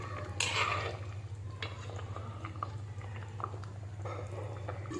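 Mango fish curry made with para fish being stirred in a pot, soft scraping and clinks of a spoon against the pot at an even pace, close and moderately quiet over a steady low hum, no talk.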